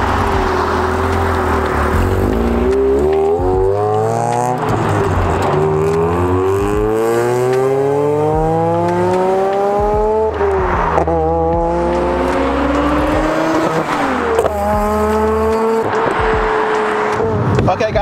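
A Mazda RX-8 R3 street-ported rotary engine revs hard again and again, pitch climbing through each gear then dropping on the shift, loud and close.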